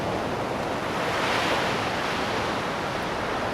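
Sea waves washing steadily onto the shore, a continuous broad rush of surf with gentle swells in loudness and light wind across the microphone, no voices.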